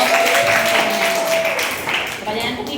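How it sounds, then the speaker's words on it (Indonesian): A class claps after a student presentation, with steady dense applause that fades toward the end and voices mixed in. "tepuk tangan untuk"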